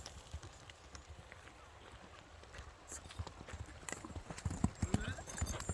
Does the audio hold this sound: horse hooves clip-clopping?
yes